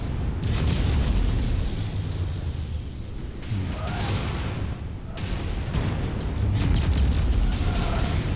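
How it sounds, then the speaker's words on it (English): Dense, loud explosions and heavy booms from Mechwarrior 5 Mercenaries battle gameplay roll on continuously, layered over a constant low rumble with occasional sharper bursts. "There's be a lot of explosions going on in my face."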